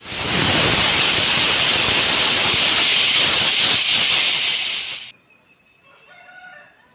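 A pressure cooker whistles while cooking goat leg soup, one loud sustained hissing shriek of steam that stops abruptly, leaving quiet room sound with faint bits of noise after.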